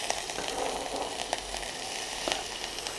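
Small shallots frying in hot oil in a pan on a Gonzey pizza oven, giving a steady close sizzle with faint crackles and no talking.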